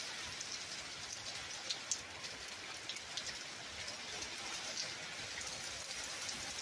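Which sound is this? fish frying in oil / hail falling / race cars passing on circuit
hail falling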